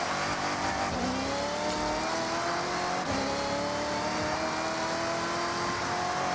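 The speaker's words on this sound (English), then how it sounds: "The supercharger noise are definitely a lot more aggressive on here too." A supercharged car engine in the Forza Horizon video game revs and holds steady with a rising whine, gear changes audible as sharp dips, loud and continuous.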